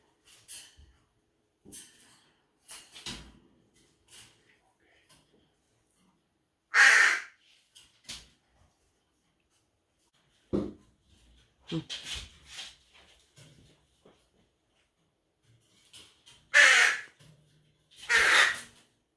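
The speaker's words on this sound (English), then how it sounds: "I was shocked to see that bird right at the window, like wanted to come in, like even knocking" A large bird calls at a window, several harsh, raspy caws that come in isolated bursts with quiet gaps between them, loud and close, mixed with scattered faint knocks and rustles.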